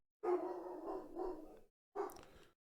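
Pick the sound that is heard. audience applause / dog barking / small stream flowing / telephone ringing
dog barking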